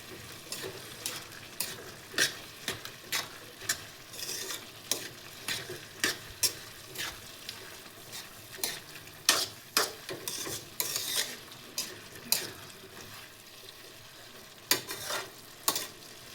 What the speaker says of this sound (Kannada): ಕೊತ್ತಂಬರಿ ಸೊಪ್ಪು ಹಾಗೆ ಕಾಯಿ ಹಾಕ್ತಿದ್ದೀನಿ. ಸೊ ಅರ್ಧ ಬೆಂದಿದೆ ಇವಾಗ, ಹಾಗಾಗಿ ಸೊ ಇದನ್ನು ಹಾಕಿ ಚೆನ್ನಾಗಿ ಮಿಕ್ಸ್ ಮಾಡ್ಕೊಳ್ಳಿ.